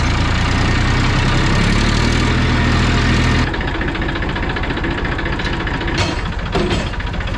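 A tractor that has sat unused for many days runs steadily on a farm, its engine loud and close with a dense low rumble that shifts to a rougher, knocking idle partway through, with no voices.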